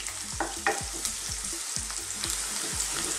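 Onion sautéing in a pan before tomato is added, for a stir-fried bean sprout and pork crackling dish, a continuous sizzle punctuated by regular thudding stir strokes of a utensil against the pan.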